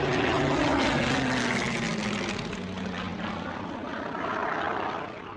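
A Supermarine Spitfire's piston engine roars steadily in flight during close formation flying, a loud, continuous propeller drone with a slight drop in pitch partway through, no voices.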